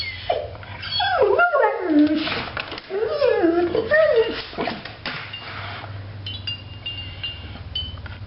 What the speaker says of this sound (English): You're so whiny when you see other dogs.